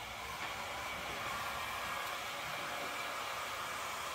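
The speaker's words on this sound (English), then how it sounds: "Now let's grab the heat gun." Heat gun set on high while van graphics are installed, blowing with a steady, even whoosh of airflow and motor hum, quiet and unbroken for the whole stretch.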